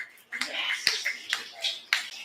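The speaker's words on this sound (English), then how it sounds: "Maybe like snaps but no clapping." An open mic audience snaps their fingers in place of applause, with about six to eight crisp, scattered snaps over a couple of seconds, close and fairly quiet.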